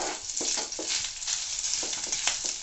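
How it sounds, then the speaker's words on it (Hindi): Ginger sautéing in a hot pan for a Sindhi-style tomato chutney gives a steady, close sizzle with light scraping stirs through it and no talk. "अदरक को कुछ सेकंड के लिए इस तरह से सौते करेंगे।"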